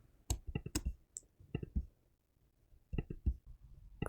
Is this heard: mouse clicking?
yes